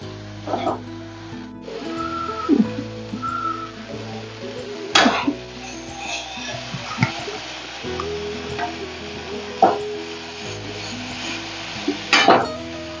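Dried shrimp, green chilli and salt stirred in a pan: spoon clinks and scrapes against the metal at irregular intervals over a low sizzle, close up, with background music throughout.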